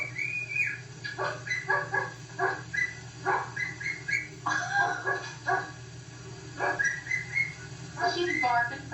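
A pet bird mimics dog barking with a run of short, squawky bark-like calls and whistles, close by and moderately loud, while a person talks softly in between.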